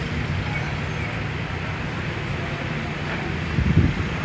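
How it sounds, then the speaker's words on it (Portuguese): A new Volkswagen truck passes in roadway traffic, a steady low rumble with wind over the microphone and a brief louder thump near the end. "E aí o novo caminhão da Volkswagen."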